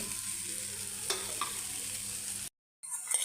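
Chillies, onion and garlic frying in oil for tomato chutney produce a soft continuous sizzle with a couple of faint utensil taps, then a brief cut to silence before the hiss resumes.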